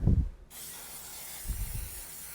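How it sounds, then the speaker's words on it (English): A short burst of canola-based nonstick cooking spray hisses up close onto hands, cutting off abruptly, followed by faint rustling and a couple of low thumps. "This is a canola based nonstick spray. So I'm going to spray your hands."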